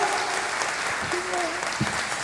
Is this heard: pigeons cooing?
no